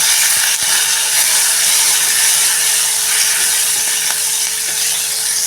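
Curry leaves being sautéed in a pan along with broken green chillies, a continuous bright sizzle with faint clicks of stirring, steady and close, with no talking.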